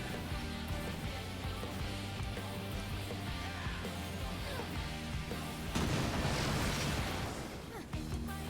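A massive cannon fires in Final Fantasy XIV amid dense, loud battle music and effects, with a heavy booming blast surging up late in the clip before the din carries on.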